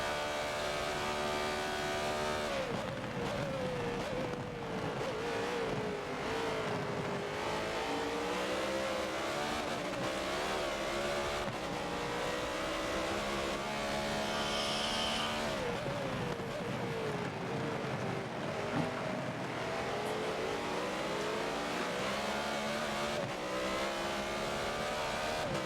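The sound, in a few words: race cars hot lapping at Daytona in racing video game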